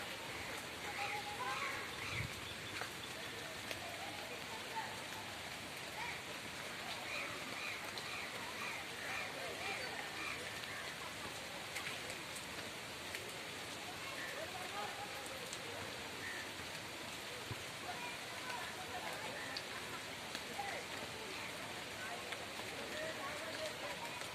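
Rain falling outdoors near a field, a soft continuous patter and hiss at low level, fairly distant and even throughout.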